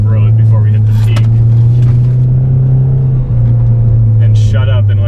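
Loud, close engine drone from a car with new Maptun suspension driven hard up a mountain road toward the peak, a steady low rumble with a brief dip in the middle and some faint voice and other noises on top.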